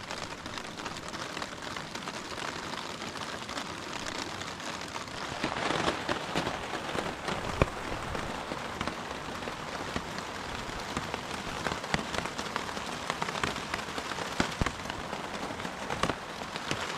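Rain falls steadily on a tent during an overnight hike in Linville Gorge, a dense, continuous patter and hiss of drops that stays close and fairly loud, with no talking.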